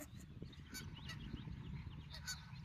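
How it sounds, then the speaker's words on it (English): Several geese or ducks honk and call in a park, a few bright repeated squawks standing out over a steady low rumble of outdoor background noise, moderately distant. "Hear them ducks?"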